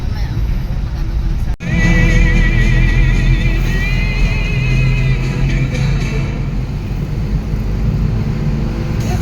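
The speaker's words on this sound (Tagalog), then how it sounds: "Tulin din naman yung motor na yan." A motorcycle passing along a road near Nueva Ecija State University in Cabanatuan City, its engine a steady loud drone with a rising whine, heard close by over continuous traffic noise.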